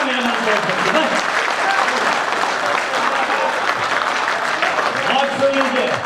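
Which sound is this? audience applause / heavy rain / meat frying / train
audience applause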